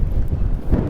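Gusty wind buffets a small wireless smartphone microphone outdoors by a parking lot, producing loud, low rumbling thumps and blustery roar for under a second.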